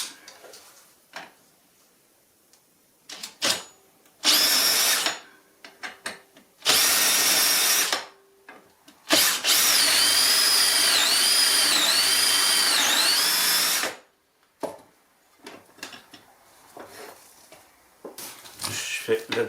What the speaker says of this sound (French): Et c'est parti le perçage